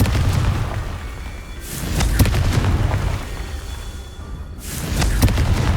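Confringo fire spell from Hogwarts Legacy bursts in repeated booming explosions, three heavy blasts spaced a couple of seconds apart, each with a rumbling tail, with no talking.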